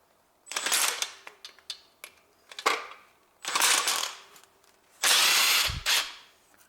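A power tool in short bursts loosens the alternator bolts on a Honda Civic 1.8 engine, with four or five loud whirring runs separated by pauses and small metallic clicks and knocks.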